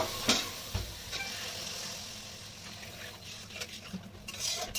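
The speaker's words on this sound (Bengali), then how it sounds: "তো আমার মশলা কষানো হয়ে গেছে, এবার আমি জল দিয়ে দেব।" Water goes into a pan of sizzling fried spice masala for a bhola fish and eggplant curry. The sizzle and crackle are soft, with a few utensil scrapes. It is quiet and no one speaks.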